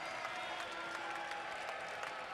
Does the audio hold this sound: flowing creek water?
no